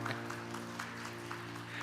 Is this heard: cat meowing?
no